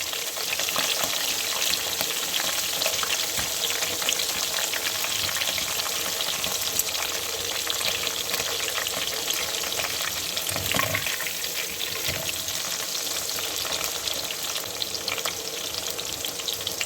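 Mixed nimko snacks sizzle and crackle steadily in hot oil, a continuous dense frying hiss with no talking.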